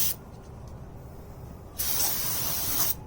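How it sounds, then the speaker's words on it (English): Aerosol brake cleaner sprayed onto rear brake parts of a 1997-2003 Ford F-150 pickup: a first short hissing burst, then a longer, louder continuous spray lasting over a second, close and clear. "And if it's more comfortable for you, you can set it on there and spray it."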